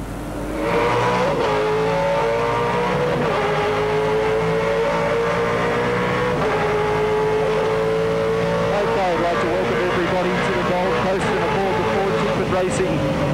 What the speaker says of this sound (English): V8 Supercar, heading down the front straight, if you can call it that, and into the first chicane